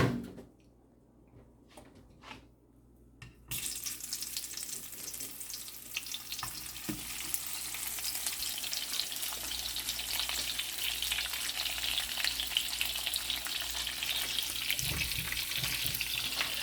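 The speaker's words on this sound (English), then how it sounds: "let's start frying our bulad or tuyo" Dried fish, bulad or tuyo, frying in a pan, a steady dense sizzle that starts abruptly after a few quiet seconds of small clinks and continues loud and unbroken with occasional stirring clatter.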